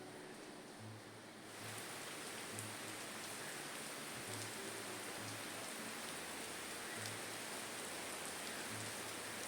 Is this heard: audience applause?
no